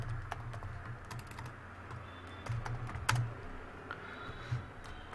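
Steady, close typing of code on a computer keyboard, with irregular soft key clicks, a few louder taps and a low background hum.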